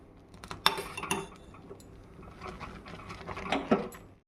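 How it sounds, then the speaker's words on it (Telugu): A spoon stirs thick mango sago kheer sweetened with jaggery in a pot, giving scattered clinks and scrapes against metal with a few louder knocks and quiet gaps between them. "మధ్యలో తిప్పుకుంటున్నాండి."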